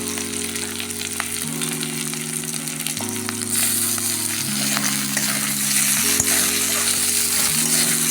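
Tomatoes and green peas frying in a pan for a fish-head muri ghonto, a steady loud sizzle with stirring scrapes running throughout, growing slightly louder midway, with no talking.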